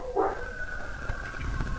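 In the Far Cry Primal video game, a dog lets out one sharp bark up front, then a faint sustained whine or tone lingers with soft distant noises behind it.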